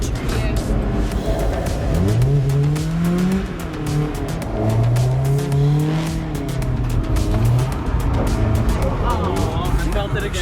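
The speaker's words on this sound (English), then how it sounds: "That already is just such a good drift right there." A BMW E36 drift car slides with long wavering tire squeals and engine roar in repeated bursts, heard from inside the car with people talking over it.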